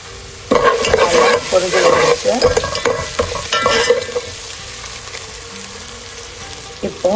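Dried red chillies fry in hot oil in a pan while tempering for South Indian rasam, a loud close sizzle with a spoon stirring and scraping, gradually settling toward the end.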